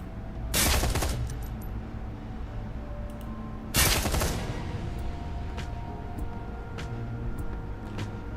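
Gunfire in the tactical game Shadowrun Hong Kong: two separate loud bursts of shots, the first near the start and another a few seconds later, with quieter game ambience and small clicks between.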